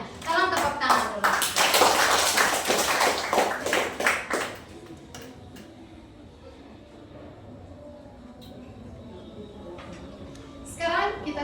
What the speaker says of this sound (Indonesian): Tolong tepuk tangan dulu.